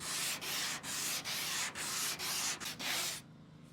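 A sanding block rubs back and forth over a farm truck's body panel along a body line, giving about eight steady scratchy strokes with brief pauses between them, close and alone before stopping.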